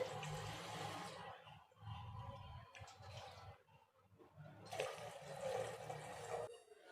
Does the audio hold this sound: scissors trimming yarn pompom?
no